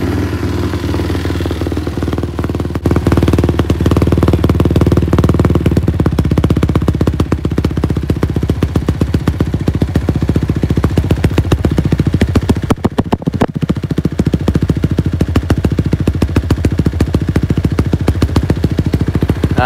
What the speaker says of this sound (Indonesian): Aku start lah lagi sekali untuk korang semua dengar selepas tahu spek motor ni